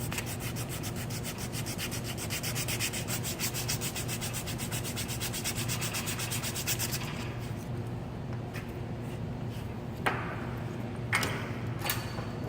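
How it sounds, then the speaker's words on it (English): Steady rhythmic scraping as 80 grit sandpaper is rubbed back and forth on a cable jacket, close up, with fast even strokes that slow into a few separate rubs and scratches near the end. "it'll tell you probably 6 inches normally to sand that jacket back"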